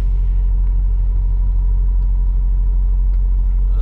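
A truck's Jake brake (engine brake) drones continuously, a deep, steady engine rumble, low and heavy, without noticeable change in pitch or any voices.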